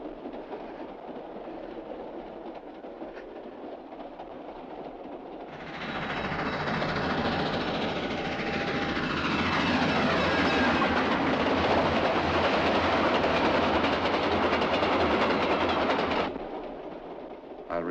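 A train ride in a 1955 film: the steady rolling rumble of a moving train grows louder partway through, holds for about ten seconds, then drops back to a quieter hum.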